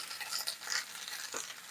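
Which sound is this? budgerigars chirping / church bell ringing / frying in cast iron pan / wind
frying in cast iron pan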